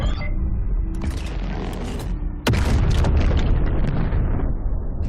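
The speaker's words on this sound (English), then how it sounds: "And then you can fire the shot." A ship's cannon fires in a video game, a sharp heavy boom cutting through creaking, mechanical rumble, with the blast's roar rolling on afterward.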